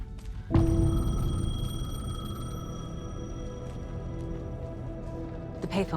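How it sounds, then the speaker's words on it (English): A payphone rings in the video game Alan Wake 2, a sustained electronic ringing tone that starts abruptly and holds steady for several seconds over a low ambient hum. "The payphone was ringing."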